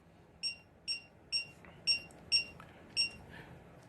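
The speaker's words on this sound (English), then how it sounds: "press the set button for 1 second. It will beep." Six short, evenly spaced electronic beeps from the keypad of a Schlage deadbolt lock, bright and clipped, with quiet gaps between them and no talking.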